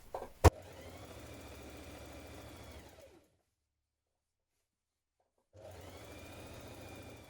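A sewing machine stitches the side seams of a coat lining, running in a steady mechanical whir for about three seconds after a sharp click, falling silent, then starting up again near the end.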